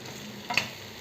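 Chicken gizzards frying in masala are stirred in a pan, giving a soft steady sizzle broken by two brief scraping clatters of the spoon, with no voices.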